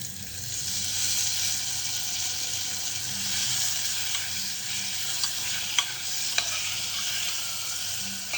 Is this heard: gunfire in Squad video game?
no